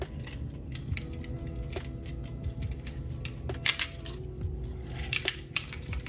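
Small metal keys on a key ring jingle and clink in the hand, several light close taps and rattles scattered over a steady low background hum.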